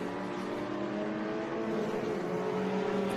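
Vintage race cars, including a Datsun 240Z and a BMW, roar past on a track's descending corkscrew turn, engines droning loudly with shifting pitch in a steady blend.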